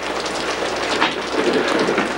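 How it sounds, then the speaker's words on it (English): Steady rain falls outdoors with a dense, even hiss of drops on surfaces, loud and continuous without voices. "caught in the rain"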